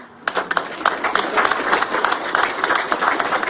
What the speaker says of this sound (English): I would like you guys to join me and applaud everybody who did not raise their hand